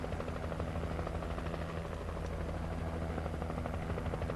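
Game helicopter from Alan Wake Remastered gives a sustained, even whirring rotor hum that stays loud and unbroken for several seconds.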